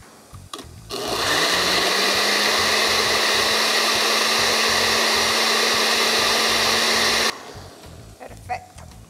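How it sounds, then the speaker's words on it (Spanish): A kitchen blender purees a sauce of chili and salt, its motor whining loudly and steadily for about six seconds before cutting off, with faint handling clatter before and after. "y a licuar"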